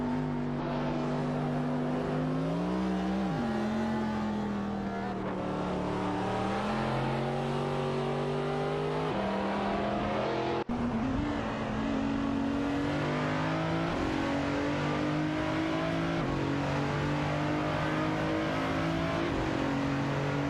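Race cars in a video game, including a Ferrari and a McLaren F1 GT, accelerate with loud, sustained engine whines that climb in pitch through gear changes, several engines overlapping throughout.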